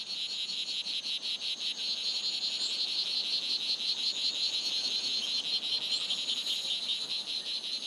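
A dense, high-pitched insect-like trilling chorus of male strawberry poison dart frog calls, steady and continuous, with rapid pulsing buzzes throughout and no voices.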